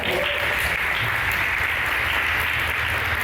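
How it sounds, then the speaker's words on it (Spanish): A congregation at a church service claps together in sustained, dense applause, loud and even throughout with no break and no voices standing out. "Dale un aplauso."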